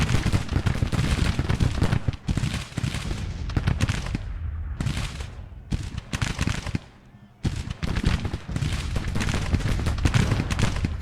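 Civil War battlefield in Grand Tactician: The Civil War, with dense, continuous cracking of rifle volleys and booming artillery, loud and close, dropping briefly to quiet before the firing resumes.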